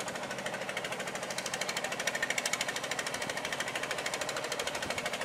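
Hand-held tiller's small engine runs steadily up close, a rapid, even hammering pulse with a buzzy, rattling edge and no pauses.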